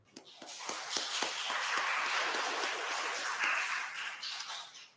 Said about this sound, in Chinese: 这是咱鼓掌